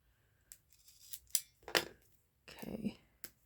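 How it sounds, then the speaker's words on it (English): Scissors cut paper in several short, crisp snips spaced irregularly, close and fairly quiet, with some rustling of paper between cuts. "Get something to cut it."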